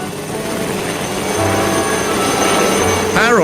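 A cartoon helicopter flying overhead, a steady whirring rotor drone that grows slightly louder toward the end, with a short rising whistle-like sweep near the close.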